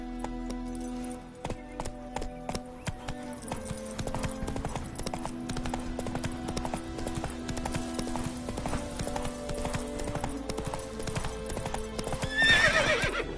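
A horse named Roach clip-clops steadily along at a walk, hooves sounding close and rhythmic, with a loud whinny breaking out near the end.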